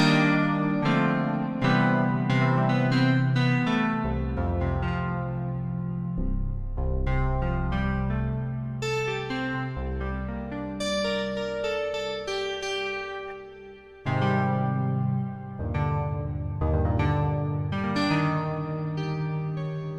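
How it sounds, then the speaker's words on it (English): A Korg multi/poly synthesizer wavetable patch with an electric-piano-like tone plays a steady sequence of struck chords and notes with bright harmonic overtones, sustained and decaying, loud and close with no voices. "It's very piano-like, actually, right? Sort of kind of sounds like an electric grand or something like that."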